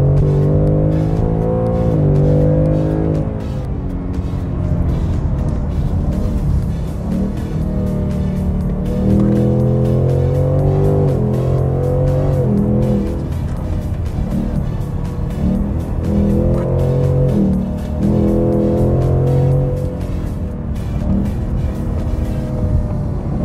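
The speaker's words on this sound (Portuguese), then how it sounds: "eu acho que é mais legal a gente acelerar para você sentir a força e o som raro" A 2022 Ford Mustang Mach 1 V8 accelerating hard, a loud close engine roar that climbs through repeated rising rev sweeps as the gears change, with no talk over it.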